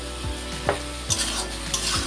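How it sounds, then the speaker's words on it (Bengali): Potatoes sautéing in a pan with turmeric and salt for a Bengali brinjal, potato and pomfret fish curry, a steady close sizzle broken by four or five scraping stirs of a spoon, with no talk. "মশলার সাথে আলুটাকে একটু কষিয়ে নেব"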